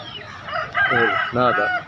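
A rooster crows loudly nearby at a Sunday poultry market in Bhadradri Kothagudem, two drawn-out calls in quick succession over a faint background murmur.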